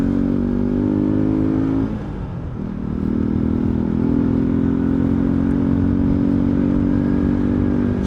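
Euro Rock R125 motorcycle engine running steadily while riding on a long road trip, a continuous loud drone with a brief dip in revs partway through before pulling back up.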